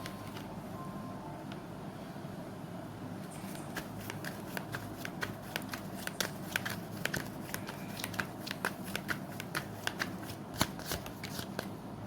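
Tarot cards are shuffled softly, with a rapid stream of light riffling taps over a low steady background hum.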